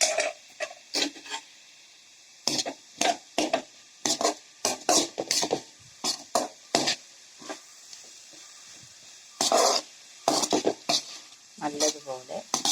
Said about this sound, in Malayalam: നമുക്കിതൊന്ന് ഇനി ഇളക്കി കൊടുക്കാം